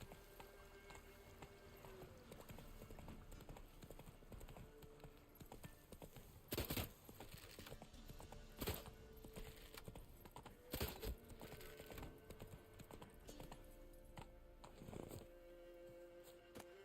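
Horse hooves clip-clop at a steady walking rhythm in The Witcher 3, with a few louder thuds scattered through and quiet ambient game sound beneath.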